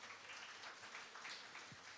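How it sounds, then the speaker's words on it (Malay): Audience applause for Cik Mat at a KEMAS kindergarten event, a steady wash of moderate clapping from a crowd lasting about two seconds, with no speech over it. "Kita berikan tepukan untuk Cik Mat."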